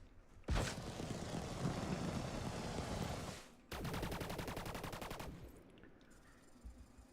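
Ships in the space game Elite Dangerous fire weapons in two long, loud, close bursts of rapid automatic gunfire. The second burst carries a distinct fast pulsing rhythm, and both stop abruptly.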